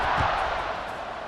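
Stadium crowd roaring in the EA Sports College Football 26 video game, a steady broadband wash of cheering voices that stays dense and even, with a low thump near the start and no commentary over it.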